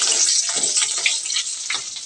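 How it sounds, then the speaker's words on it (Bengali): Potatoes frying in a pan in a home kitchen, a dense, bright, continuous sizzle heard up close, with small crackles and shifts as they cook. "আর এখানে দেখো আলু ভাজছি"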